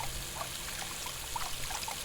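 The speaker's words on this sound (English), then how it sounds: "soon a steady stream of water rushes out from the tap" Tap water pours in a steady, even rush with faint trickling detail, heard alone at close range and moderate loudness.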